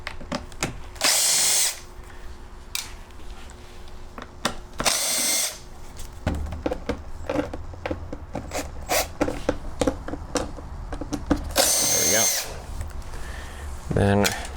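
A power drill backs screws out of a generator head in repeated short whirring bursts, close and loud, with someone talking between runs and some clinking of tools and parts.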